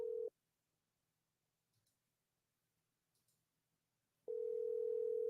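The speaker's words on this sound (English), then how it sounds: "Can y'all hear the phone ring?" An outgoing telephone call gives a quiet ringback: one steady tone burst, then about four seconds of near silence with faint clicks, then the next burst starting, faint and low in level.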